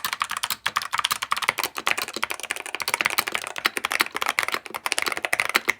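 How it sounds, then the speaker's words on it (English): Rapid typing on a modded Womier WK61 budget mechanical keyboard, a dense, close stream of crisp key clacks with uneven rhythm and brief pauses, heard alone without any talking. "This is the Womier, doesn't matter, WK61 budget mechanical keyboard that I have fully decked out."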